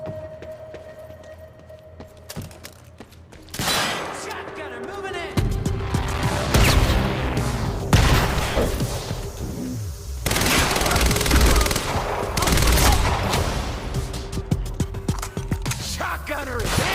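Quantum Break, a video game, with repeated bursts of rapid gunfire and booming shots in loud clusters over several seconds, a voice talking in between.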